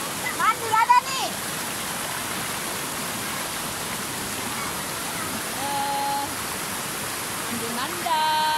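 A river stream flows steadily at Bekok river in a Malaysian forest recreation area, a continuous broadband wash of water running throughout, with brief voices and bird-like chirps near the start and end.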